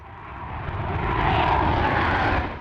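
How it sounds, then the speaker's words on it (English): A CF-18 Hornet fighter jet roars down a runway in a ground race, its engine a loud, continuous broadband rush that swells and peaks midway before easing off, with no voices. "the jet keeps catching up halfway down the tarmac"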